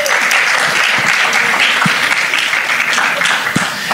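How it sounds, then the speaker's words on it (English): An audience applauds a musician at a creative economy and disability inclusion event in Africa, steady close clapping that holds evenly for several seconds, with a few sharper individual claps. "I think he deserves a round of applause"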